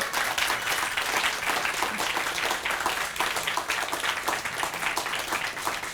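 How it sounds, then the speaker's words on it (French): Steady audience applause on a Corsican radio or stage program, dense clapping at an even level throughout with no voices over it. "Ça s'applaudit."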